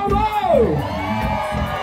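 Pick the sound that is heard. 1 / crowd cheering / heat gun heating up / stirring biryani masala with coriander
crowd cheering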